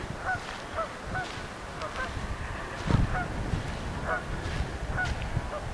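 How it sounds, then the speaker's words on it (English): Wild geese honk repeatedly in short nasal calls, several birds overlapping at moderate distance over a constant low outdoor rumble, at the Broad River sandbar by the Highway 29 bridge. "Lots of geese in the wild."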